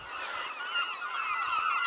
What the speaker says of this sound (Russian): О, чайки меня атакуют.